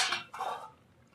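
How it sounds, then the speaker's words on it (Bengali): A metal lid comes off a pot of simmering shukto, made with vegetables and milk, giving a quick clatter and scrape followed by a second softer clink, close and brief, fading into quiet. "ঢাকনা তুলে দিচ্ছি আমি।"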